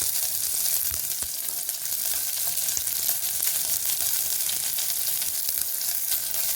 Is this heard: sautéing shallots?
yes